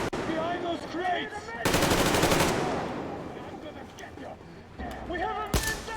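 Video game gunfire from a shooter match: a long sustained burst of rapid automatic fire dominates the middle, with another short loud burst near the end, mixed with in-game effects and player talk.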